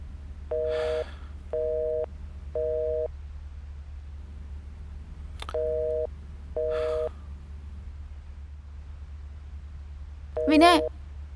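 Repeated phone busy tone from a handset with no network signal, sounding in short evenly spaced beeps, with brief voice sounds and a sharp gasp-like noise between them.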